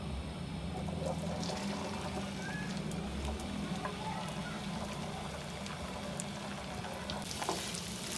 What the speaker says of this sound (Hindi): ये देखिए 1 से 2 मिनट तक अरबियों को अच्छी तरह हम इस तरह फ्राई कर लेंगे।